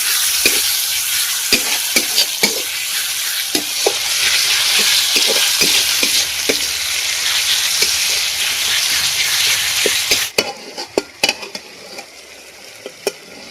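Chopped tomatoes and onions frying in a pan for chicken curry, a loud steady sizzle broken by frequent spatula scrapes and taps, then the sizzle drops away while stirring knocks continue.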